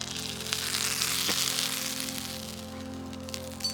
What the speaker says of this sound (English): We've got some American cheese to chuck on top and some buns, and then Ellie's going to have some bacon